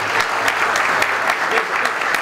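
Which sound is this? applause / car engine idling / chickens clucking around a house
applause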